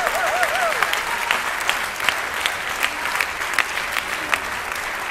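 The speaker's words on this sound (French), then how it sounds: "Et on peut applaudir les spectateurs maintenant" An audience applauds the spectators at a thank-you event, a steady bed of clapping with a few sharper individual claps standing out, while a faint whistle-like tone wavers briefly at the start.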